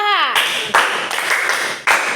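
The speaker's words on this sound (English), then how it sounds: "Clap for her." Classmates in an Epie language class clap for a student, a few loud, close hand claps in uneven bursts after a voice fades out, each clap crisp and sharp with short gaps between them.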